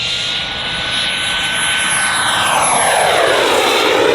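An RC L-39 Albatros model jet's turbine engine screams loudly and steadily at an airshow, a continuous high-pitched whine over a broad roar with no voices.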